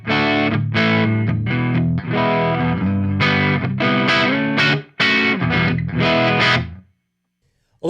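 An electric guitar on its neck pickup is played through a Lichtlaerm Audio Aquaria Overdrive v2 pedal. Loud, distorted chords ring out in rhythmic bursts with short gaps, and the last chord cuts off to near silence.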